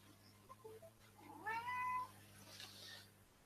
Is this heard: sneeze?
no